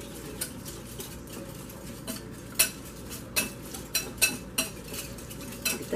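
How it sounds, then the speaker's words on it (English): Dried parsley, basil and other seasonings whisked together in a bowl, a quiet rapid scraping under a series of sharper clinks and taps of the utensil against the bowl, close and unaccompanied by speech. "And I'm just going to whisk all that together."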